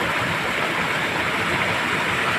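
A small waterfall pours steadily at a natural spring visit site, a dense, continuous rushing wash of water heard up close and loud with no pauses or voices.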